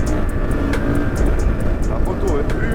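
Honda CRF 450 supermoto, a road-legal motorcycle, ridden on the road; its single-cylinder engine drones steadily and close throughout, with wind noise and a few sharp ticks over the top, and a voice talking under the engine.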